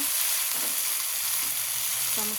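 Koi fish and tomatoes frying in a Bengali home-cooking pan, a steady loud sizzle with a few soft scraping stirs through it and no talking.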